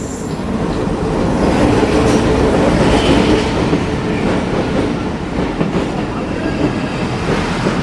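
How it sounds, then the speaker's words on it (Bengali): The Mohananda Commuter passenger train pulls into Alamdanga railway station, a loud sustained rumble of wheels and carriages rolling past close by with rhythmic clatter throughout. "মহানন্দা কমিউটার চাঁপাইনবাবগঞ্জের রহনপুর থেকে ছেড়ে আসছে"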